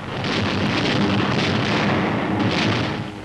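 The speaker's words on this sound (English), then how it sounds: "Explosions and fires are sucking the oxygen from the air." Explosions and fires in a bombed German city in archival war footage, a dense, continuous roaring rumble with heavy booming bursts that swell and fade over a few seconds, with no speech.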